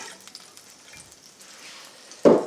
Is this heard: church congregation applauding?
no